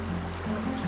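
Water flowing out of Dudh Pokhari lake on a mountain trail, a steady close rushing stream with a continuous broadband wash and a faint low tonal hum beneath.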